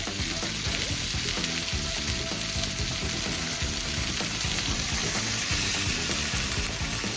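Chicken fries in a pan and is flipped with tongs, giving a steady, close, hissing sizzle that holds evenly throughout with faint stirring clatter and no talking.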